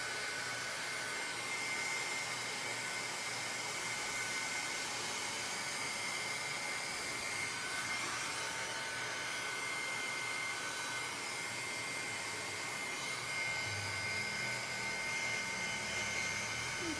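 A hair dryer blows steadily and evenly throughout, drying paint on an art journal page, a constant close airy whir with no breaks.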